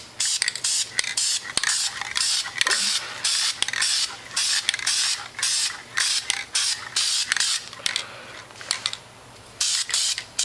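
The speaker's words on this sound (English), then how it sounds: "I'm going to spray in uniform way" Spray paint hisses over a paper stencil laid on a barbecue grill lid, in a run of short bursts with brief gaps, close and loud with no talking.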